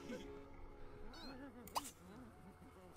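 A pet cat in The Sims 3 meows repeatedly in soft, drawn-out wavering calls. Quiet game background sounds play underneath, with a brief sharp click partway through.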